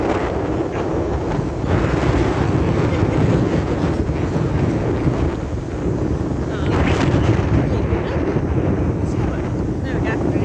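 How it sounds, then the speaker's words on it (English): Strong wind on a beach at Torquay, Australia, roars and buffets the microphone steadily throughout, with a voice faintly underneath. "Very windy."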